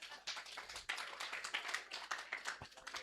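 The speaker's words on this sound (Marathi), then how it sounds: "टाळ्या वाजवा यांच्यासाठी." A church congregation claps in a quick, steady run of sharp hand claps at moderate distance, fairly quiet overall.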